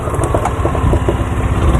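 A small golf cart engine idles and chugs steadily at close range with a light, rapid rhythm and no voices.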